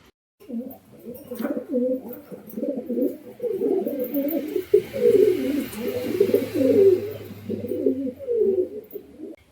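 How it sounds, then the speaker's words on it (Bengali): Domestic pigeons at a pigeon sale coo continuously and close by, their overlapping rolling calls fairly loud and rhythmic throughout. "আজকে খুব বেশি একটা পায়রা নেই যেগুলো দেখাবো সলিড পায়রা দেখাবো"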